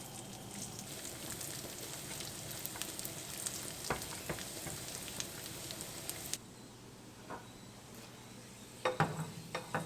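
Nuts and raisins frying in a pan of fat for gajar ka halwa sizzle and crackle close by, steady at first and then quieter, with occasional stirring scrapes and pops.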